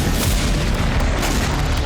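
A continuous heavy rumbling roar of a bomb explosion in Russia-Ukraine war footage near Belgorod, dense low booming that fills the whole stretch at high level, with no distinct separate blasts.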